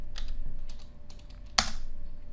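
Computer keyboard typing at close range, a few quick keystrokes with one sharper key press near the end, alone over a low steady room hum.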